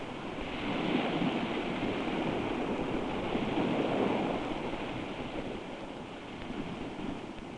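Sea waves roll and wash under a steady breeze, a dense, continuous broadband roar with gentle swells in loudness, like open surf mixed with wind noise, with no voices.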